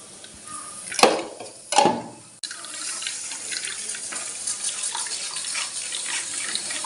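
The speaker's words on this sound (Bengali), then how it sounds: "এভাবে আমরা রসটাকে ছেঁকে নেব" Cake syrup being strained, pouring and trickling steadily after a couple of sharp clinks of utensils against a pan, close by and continuous with no talking.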